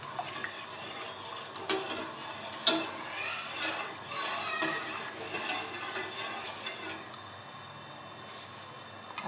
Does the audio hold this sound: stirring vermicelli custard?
yes